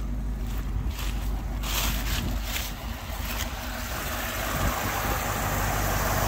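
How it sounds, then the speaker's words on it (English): A steady, low idle from a 1955 Mercury Montclair engine just after a cold start rumbles continuously with a broadband hiss on top, smooth and even throughout with no revving. "That's about the quietest engine you're gonna hear on a cold start for a vehicle of this age."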